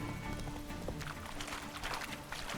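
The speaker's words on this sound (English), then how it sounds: "you stupid horse" Horse hooves clip-clopping at a run in The Witcher 3 video game, a steady galloping rhythm amid busy game ambience.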